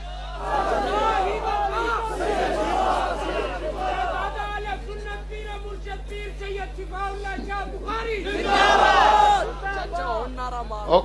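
A large crowd at an annual religious convention in Gujrat chants slogans in unison, loud rhythmic voices rising and falling with a louder surge near the end, over a constant low hum.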